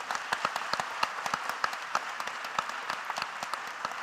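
Applause from attendees at a Telangana realtors forum meeting, a steady patter of individual claps from a moderately sized crowd, crisp and close, continuing evenly throughout.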